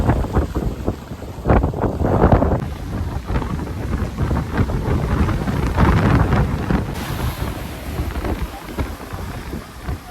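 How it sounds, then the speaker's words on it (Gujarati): Sea waves surging against rocks on the shore at Kanyakumari, heard as loud, rolling washes of water with heavy wind buffeting the microphone throughout. "લહેરું જુઓ તમે, કેવી લહેરું આવે છે, એક નંબર લહેરું આવે છે."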